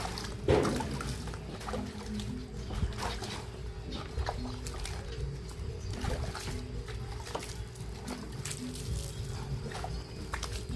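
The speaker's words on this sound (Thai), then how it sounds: "ไปล้างน้ำเปล่าเลยนะครับ อ่ะมาดูล้างน้ำเปล่านะครับ" Rinsing with plain water after washing off chemicals: a soft, steady trickle and pour of running water that carries on throughout, faint and fairly close, with no speech.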